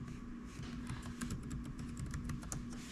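Rapid typing on a computer keyboard, a quick run of close, soft key clicks in a steady burst, heard alone at low level.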